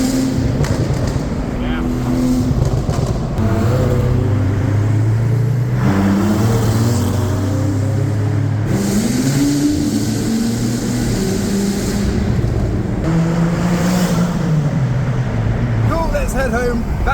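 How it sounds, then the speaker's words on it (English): A Porsche Cayman with its exhaust in noisy mode booms through a tunnel, a loud, reverberant engine drone whose revs swell and sag continuously for the whole stretch. "We got noisy mode on, so we're making a lot of noises with the Cayman behind."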